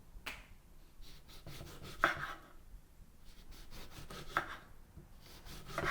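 A knife slicing through a fresh lemon for garnish, a series of soft, quick cutting clicks and brief rubs, fairly close and quiet, in an irregular rhythm with no talking.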